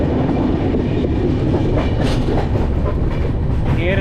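The Coromandel Express runs on rails with a loud, continuous rumble and rhythmic clickety-clack of wheels over track joints, heard from inside the moving train.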